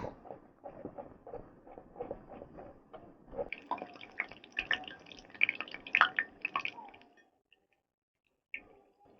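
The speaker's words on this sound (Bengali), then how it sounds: "তেল আমার গরম হয়ে গেছে। এবার আমি পিঠেগুলো আমি ভেজে নেব।" Pitha cakes fry in hot oil over a large clay stove, soft bubbling and crackling pops rising into a denser sizzle, then fading to near silence, close and fairly quiet.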